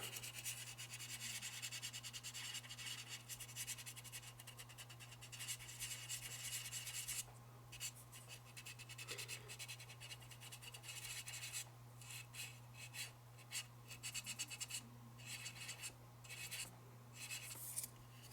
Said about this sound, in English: I'll get my 400 out and just start sanding in a circular motion.